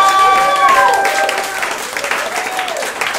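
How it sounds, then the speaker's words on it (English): Applause from a comedy show audience fills the room, a dense wash of clapping with a few cheers and whistles on top, loud at first and then easing slightly as it carries on without speech. "Everybody, clap your hands for Taylor Rogers."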